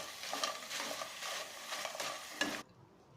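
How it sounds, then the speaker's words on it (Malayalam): A spicy potato fry is stirred in a hot pan, soft sizzling mixed with repeated scraping strokes of a spoon for a few seconds before it cuts off abruptly. "1-2 മിനിറ്റ് നന്നായിട്ട് ഇളക്കി യോജിപ്പിക്കണം."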